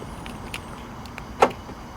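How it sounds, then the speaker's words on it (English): Central door locks on a 16-year-old Nissan Navara work pickup actuate with a sharp, close mechanical clunk, preceded by a few faint clicks over a low, quiet background hum. "Central locking works."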